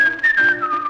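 A bright whistled melody from a 1956 Dutch pop duet, a single sustained gliding line carried as part of the song's tune, close and clear.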